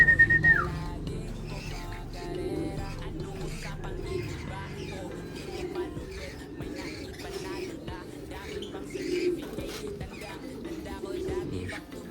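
A racing pigeon coos softly nearby in a quiet, low setting, with some faint background sounds and a brief whistle at the start.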